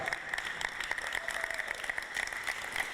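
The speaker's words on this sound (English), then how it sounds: "Can I bring up my technical assistant and give him a round of applause?" A meeting audience of electric-vehicle enthusiasts claps steadily for a technical assistant, a moderate, even patter of hands heard from a short distance for about three seconds.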